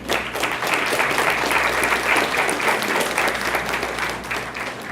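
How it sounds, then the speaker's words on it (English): A banquet audience at Lindsey Wilson College gives a big round of applause to the people being recognized. The dense, even clapping holds steady and loud throughout. "So now a big round of applause for all those people we recognize."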